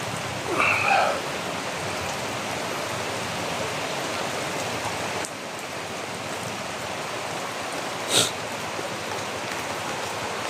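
Heavy rain on a flooded home area, a steady dense hiss of falling water and rushing flood flow, with a couple of brief louder knocks.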